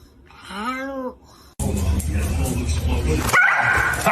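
A pet dog yelps and barks in short bursts near the microphone, followed by loud, dense noisy activity with voice-like sounds in the room.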